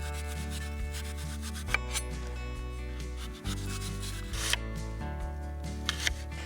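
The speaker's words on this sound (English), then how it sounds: "So I'm just slicing them, you know, in varying thicknesses, but not too thick" Knife slicing fruit for a pie at an outdoor fire-cooking setup, repeated rough cutting and rubbing strokes over a steady low hum, close and moderately loud.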